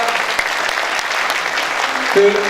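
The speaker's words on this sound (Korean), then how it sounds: "큰 박수로 맞이해 주시기 바랍니다." Steady audience applause at a Democratic Party national youth committee rally, a dense even wash of clapping with a brief voice near the end.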